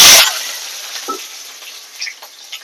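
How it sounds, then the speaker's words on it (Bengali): A dried red chili and a few garlic cloves drop into hot oil with a loud initial burst of frying, then settle into a steady close sizzle with faint stirring clicks. "রসুনটা আমি ভালো করে ভেজে নেব।"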